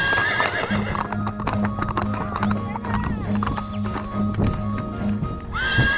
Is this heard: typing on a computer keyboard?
no